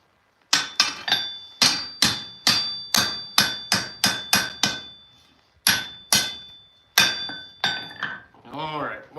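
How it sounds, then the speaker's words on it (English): Ringing, close hammer strikes drive a chisel through metal at a forge, a quick run of about a dozen sharp metallic blows with decaying clangs, a brief pause, then a few more hits before a short voice at the end. "One last pass with the chisel should get her good well and opened up."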